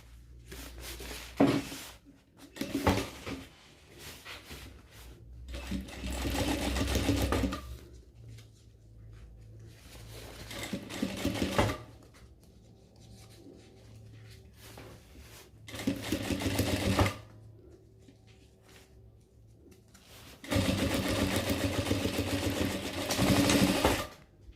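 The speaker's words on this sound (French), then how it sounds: "Je vais coudre de ce côté avant de coudre de l'autre côté." Sewing machine stitching a bike bag in several bursts of rapid whirring needle runs, some long and some short, separated by quiet pauses and handling noises, close and clear with no speech.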